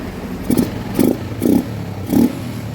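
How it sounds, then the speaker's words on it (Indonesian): Four short bursts of a power drill whirring as it drills into a broken carburetor air screw on a Yamaha Jupiter MX motorcycle, evenly spaced about half a second apart, close and fairly loud, with quiet pauses between. "Dan setelah itu saya lakukan pengeboran."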